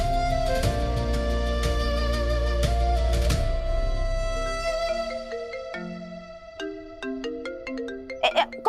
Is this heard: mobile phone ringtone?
yes